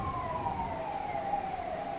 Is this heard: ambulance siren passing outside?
yes